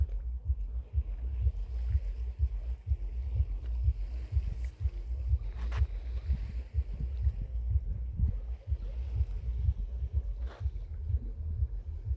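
Waves lapping on the Dnieper at the Kyiv reservoir, a steady low watery churn with gusts of wind buffeting the microphone, continuous and fairly close, with no voices.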